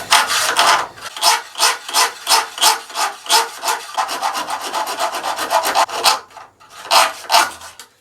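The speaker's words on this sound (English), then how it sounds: "So I just need to get these nails out now. So just a hacksaw blade." A hacksaw blade cutting through nails in a 1950s Jentique wooden writing bureau: steady rhythmic back-and-forth rasping strokes, close and loud, briefly pausing before two final strokes.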